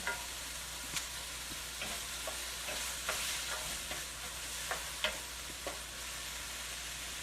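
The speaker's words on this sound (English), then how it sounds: "So I'm just going to saute these up for about another minute." Chicken sautéing in a pan for a lean peppery puttanesca, a steady sizzle with sharp utensil scrapes and taps every second or so, close and moderately loud, no talking.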